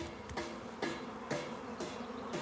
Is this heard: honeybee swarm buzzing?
yes